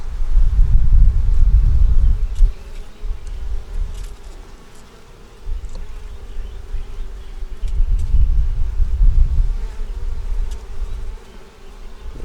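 Bees buzz in a dense, droning swarm around an open hive, the hum swelling and fading in loud close waves with no voices.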